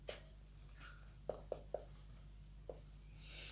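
Pen or pencil writing out a math solution on paper: a few faint, sharp scratchy strokes and taps spaced irregularly against a quiet background hum, with no talk.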